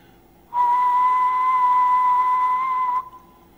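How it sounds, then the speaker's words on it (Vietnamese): A person whistling one steady, loud, sustained low note to control a game, lasting about two and a half seconds and stopping abruptly. "thì bây giờ tôi sẽ huýt sáo một cái nốt thấp."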